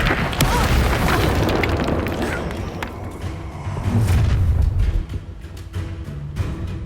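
An Incendio fire spell cast in Hogwarts Legacy. A loud, dense burst of booming, crackling combat noise churns throughout, with heavy low thuds swelling in the middle.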